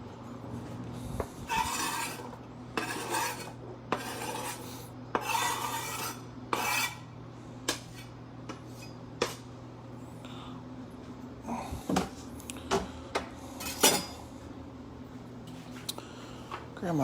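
Onions are stirred in a hot pot with a big spoon, producing repeated short scraping and rasping strokes in an irregular rhythm, close and moderately loud over a low steady hum.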